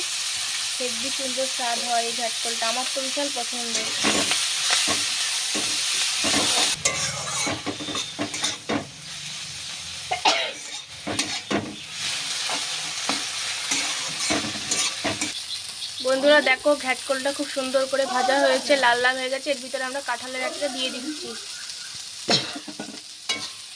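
Ghetkol curry with turmeric sizzles in a pan while being stirred, a continuous close hiss broken by scraping strokes, with a voice talking over it at times.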